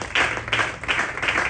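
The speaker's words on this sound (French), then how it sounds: "Des acclamations là vraiment." A crowd claps together in steady rhythmic bursts, about three beats a second, loud and close, with no voices over it.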